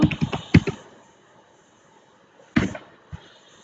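Keys tapped on a computer keyboard in a burst of quick, close clicks, a pause, then a few more isolated taps.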